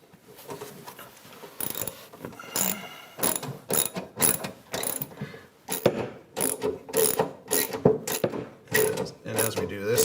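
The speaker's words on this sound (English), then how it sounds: "you do that by means of a socket and ratchet, 13mm extension or socket on the end of the extension, and that engages the back rollers" A socket and ratchet on a 13mm extension clicks repeatedly while adjusting the back rollers of a JennAir built-in appliance being installed into a cabinet; steady bursts of close, loud ratcheting clicks with brief pauses between strokes.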